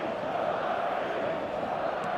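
A stadium crowd cheers in the eFootball video game, a steady, distant, even roar of many voices with no distinct peaks.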